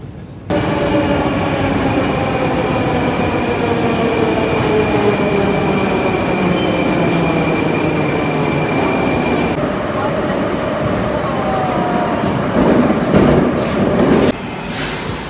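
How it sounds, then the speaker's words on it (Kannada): A metro train arrives at a station with a loud, continuous rumble of wheels and motors, a steady whine and clatter close by, then the sound eases and shifts as the train slows near the end. "ಇಲ್ಲಿ ಬರುತ್ತೆ ನಮ್ಮ ಮೆಟ್ರೋ."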